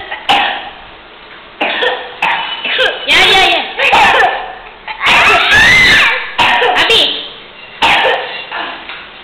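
A child coughing repeatedly in short bursts close by, mixed with children's chatter, shouts and laughter in a lively home setting.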